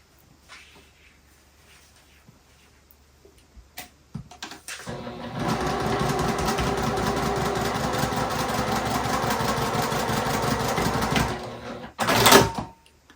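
A sewing machine stitching a seam on a fabric patch-cat toy, starting with a few handling clicks, then running steadily and loudly for about six seconds before stopping with a short clatter.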